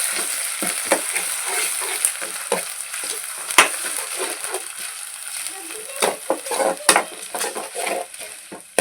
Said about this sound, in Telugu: ఉల్లిపాయలు పచ్చిమిర్చి వేగినాయి కదా. అల్లం వెల్లుల్లి పేస్ట్ వేస్తున్నా.